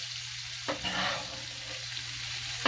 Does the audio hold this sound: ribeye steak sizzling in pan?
yes